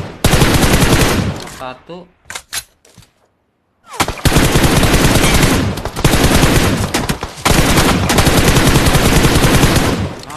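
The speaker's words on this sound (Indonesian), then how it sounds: "Nah kita spray di sini" Loud, sustained automatic gunfire from spraying in PUBG Mobile, rapid shots in long bursts broken by a brief near-silent pause for a reload, with a voice briefly speaking.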